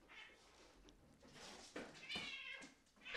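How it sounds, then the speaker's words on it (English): Cats squabble and meow in the background of a home, with agitated yowls and hisses rising in short, uneven bursts at moderate distance. "can you guys hear my cats just like freaking out on each other in the background?"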